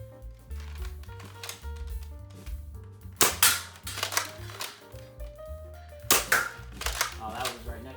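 Sharp, snappy shots from a NERF Max Striker foam-dart blaster, with two loud pops standing out among quieter clicks and handling noise, set against a tonal background.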